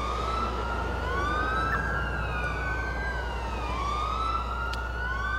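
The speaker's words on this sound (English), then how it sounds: "These police sirens really get annoying." Several police car sirens in the video game GTA IV with the LCPDFR mod, overlapping wailing tones rising and falling continuously over a low engine rumble, loud and close throughout.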